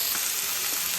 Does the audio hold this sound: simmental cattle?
no